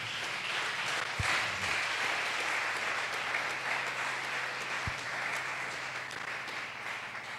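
A church congregation applauding together in a large hall, a dense, even wash of clapping held at steady volume throughout, with no talk over it.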